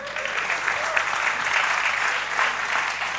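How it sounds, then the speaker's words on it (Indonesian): An audience at an informal campus talk claps together, a steady, moderately loud patter of many hands filling the whole moment with no voices on top. "Tepuk tangan dulu rek."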